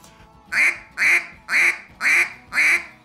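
A hand-blown duck call imitates a mallard hen's alarm call: five evenly spaced, loud, nasal quacks in quick succession, close and clear against a quiet background.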